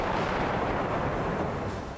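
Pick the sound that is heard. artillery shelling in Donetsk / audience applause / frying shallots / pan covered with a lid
artillery shelling in Donetsk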